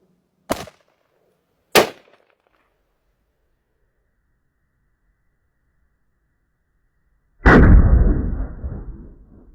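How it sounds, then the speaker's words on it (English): Two sharp, loud gunshots about a second apart fired at a Tacassist Level III armour plate, followed by silence and then a third heavier blast with a long rumbling decay outdoors. "now we're going to shoot the Tacassist plate and show you how that works"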